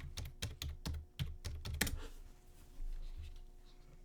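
Quick typing on a computer keyboard, a rapid cluster of sharp, close key clicks for about two seconds, then quiet with faint rustling.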